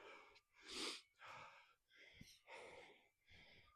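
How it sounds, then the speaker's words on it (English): Heavy, labored breathing after a brutal kettlebell complex workout: several close, wheezing gasps in a slow rhythm, each breath rising and falling alone. "I'm struggling with breathing."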